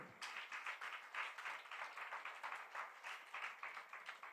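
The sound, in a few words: applause for Balvikas children, gurus and parents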